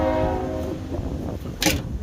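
A passing train sounds a sustained horn that fades out over the first second, leaving a low rumble of the cars rolling by, with a short sharp burst near the end.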